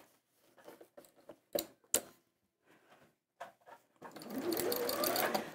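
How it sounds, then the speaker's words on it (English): A sewing machine stitches a fabric bag, starting with scattered clicks and short bursts of handling noise, then running in a steady, close mechanical whir for the last second and a half. "So I'm sewing on the inside of it about here."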